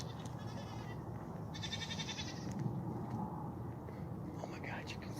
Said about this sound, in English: I think my neighbors have a goat or sheep or something.